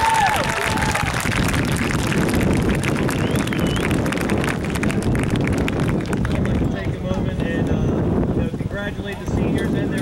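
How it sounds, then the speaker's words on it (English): A crowd applauds senior soccer players at a boys' soccer match, a broad, steady clatter of clapping mixed with outdoor wind noise and voices, continuing for several seconds before thinning out. "Everybody please stop for a moment and give them a round of applause for our senior."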